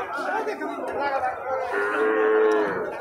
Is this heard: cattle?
yes